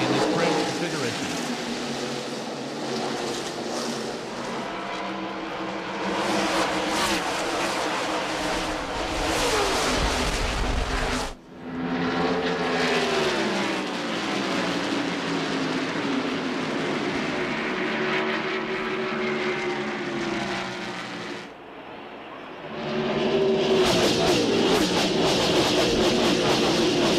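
NASCAR stock cars racing at Darlington during the 1997 Trans-South Financial 400, engines roaring past in loud sustained waves with pitch sweeps, commentators talking over the noise.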